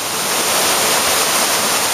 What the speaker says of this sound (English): The water is just pouring off the roof